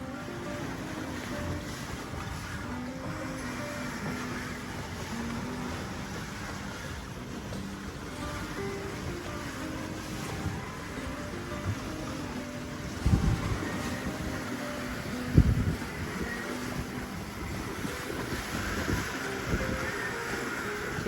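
A sailboat under way out on open water, with a steady wash of waves and wind buffeting the microphone, plus a couple of brief knocks near the end; no voices.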